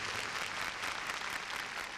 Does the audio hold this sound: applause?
yes